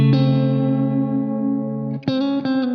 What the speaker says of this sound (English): you're playing the minor 3rd, bending it up to the major 3rd